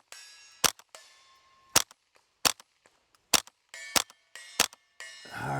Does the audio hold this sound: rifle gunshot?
yes